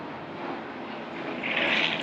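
A helicopter passes overhead outdoors, a steady broad engine and rotor roar that swells louder toward the end, with no talking.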